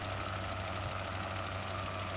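A big yellow tractor in the Farming Simulator 2015 video game runs at a steady, droning idle, with a constant throb and even loudness throughout and no voices.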